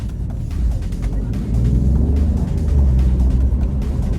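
Alfa Romeo Giulia Quadrifoglio, recently lowered and fitted with front wheel spacers, driving on a residential road, a low steady engine and road rumble heard from close by inside the car, growing slightly louder midway.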